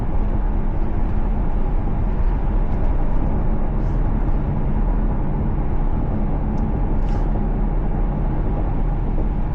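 Maserati GranTurismo engine droning steadily from inside the cabin while driving, a constant loud low rumble with road noise and no clear rev changes.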